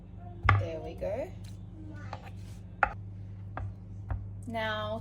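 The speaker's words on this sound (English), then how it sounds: "Now time to dice them." A knife dices peeled apples on a board with a few scattered chopping knocks, irregular and close, while a person talks briefly in between.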